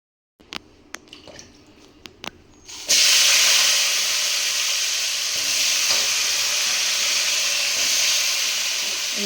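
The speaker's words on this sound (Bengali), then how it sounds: "পেঁয়াজগুলো সব ভাজতে দেবো" Chopped onions hit hot oil in a wok after a few light utensil taps, bursting into a loud, sustained sizzle and hiss that holds steady to the end.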